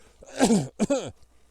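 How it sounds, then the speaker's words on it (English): Two quick, harsh coughs close to the microphone, the second shorter than the first, in an otherwise quiet room. "as I cough up a lung"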